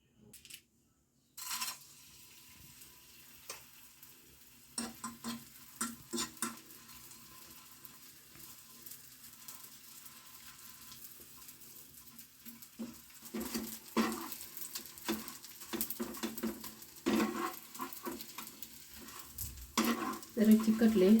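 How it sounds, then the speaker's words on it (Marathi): Fenugreek ladoo ingredients roast in ghee in a pan, giving a faint sizzle with scattered spoon scrapes and taps that grow louder and busier toward the end, after a quiet start. "फक्त जरासं त्यांना परतून घेऊया. 1 चमचा तूप घातलंय"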